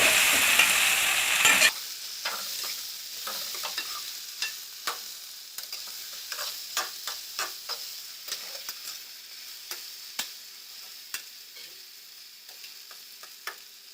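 Okra added to reddened fried onions in a pan for bhindi masala: a loud burst of sizzle, then quieter frying with many sharp, irregular spoon scrapes and taps as it is stirred.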